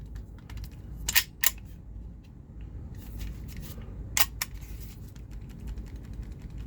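Someone handles the slide of an H&K VP9 4.5mm CO2 pistol by Umarex, producing faint rattling clicks and a few sharp, close plastic-and-metal clacks against a quiet background.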